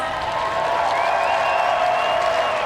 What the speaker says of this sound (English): I think that deserves one more final round of applause.